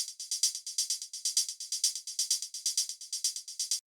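Synthesized sample with randomized notes, velocity and panning, a steady run of bright, short plucked notes in a quick even rhythm whose loudness rises and falls from note to note, ending abruptly.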